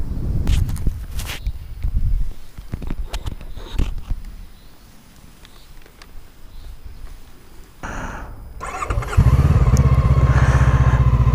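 Footsteps and rustling lead into a twin-cylinder motorcycle engine firing up nearby, its steady, loud rumble filling the final seconds.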